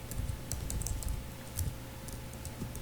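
Typing on a computer keyboard while entering text in the Eclipse editor, steady quick clicking keystrokes up close, with a few brighter isolated key taps, no voice over it.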